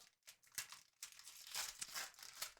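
A Pokémon card booster pack's foil wrapper being torn open, with sharp crinkling and crumpling bursts that come close and fairly loud in irregular rushes through a short stretch.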